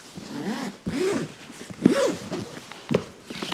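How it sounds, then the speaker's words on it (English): A Starlink Mini carrying case being zipped shut: a few quick, close rasping zipper strokes with short pauses between them, and no talking. "zip it up."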